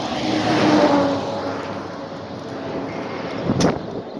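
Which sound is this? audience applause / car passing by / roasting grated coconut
car passing by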